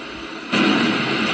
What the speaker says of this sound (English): So the ship has been hit by 3 torpedoes